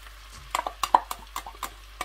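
Grated carrots are stirred into melted butter in a pan, giving a run of sharp spoon-on-metal clicks and scrapes spaced irregularly, close and fairly quiet, with no voices.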